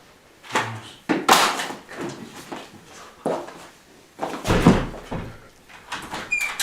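A door opens with a few knocks and thuds, sharp bangs near the middle and end, indoors in a school play, with faint background noise around it.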